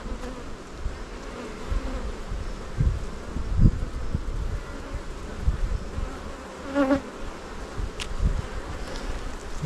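Honey bees buzz steadily through an open beehive during an inspection of brood frames, a close continuous hum with scattered louder passes and faint handling rustles.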